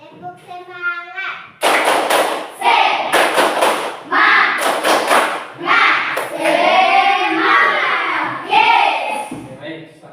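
A school class claps a rhythmic cheer in unison, with sharp bursts of loud hand claps and thumps mixed with children's voices chanting over about eight seconds.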